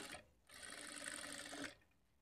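A sewing machine stitching a blouse lining runs in one steady, close burst of rapid whirring for about a second after a brief click, then stops, with no talking.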